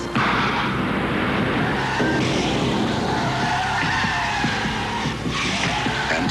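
A BMW 528e sedan brakes hard and skids in a car commercial, with a loud, continuous tire screech and engine roar sustained throughout, no voices.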